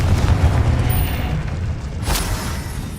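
A Confringo fire spell explodes in the Hogwarts Legacy video game: a loud, sustained booming blast with heavy low rumble that holds for the full stretch, with a brief brighter crackle surge near the end.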